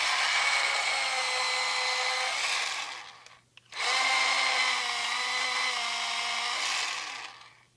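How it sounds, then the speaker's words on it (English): A black drawing pencil ground in an electric sharpener in two steady whirring bursts of a few seconds each, separated by a brief pause, loud and close. "Let me sharpen it some more."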